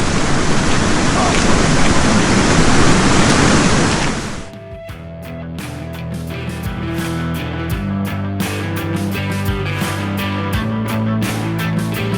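Trout farm discharge water pouring back into the Pigeon River, a loud, steady rushing roar for about four seconds that cuts off abruptly and gives way to unrelated tonal sound.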